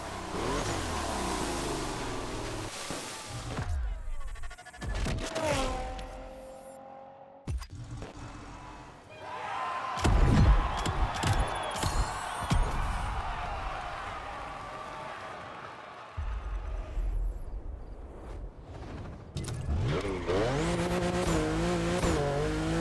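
A Porsche 911 engine revs and accelerates hard in The Crew Motorfest racing game, with tire squeal and skidding and shifting engine pitch. It stays loud and continuous, with brief dropouts.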